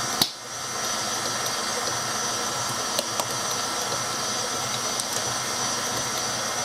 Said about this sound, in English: And we're going to let it blend well.